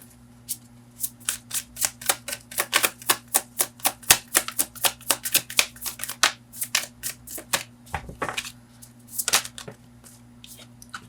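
Tarot cards are drawn and handled close up: a long run of quick papery flicks and snaps in an irregular rhythm, with a faint steady hum beneath.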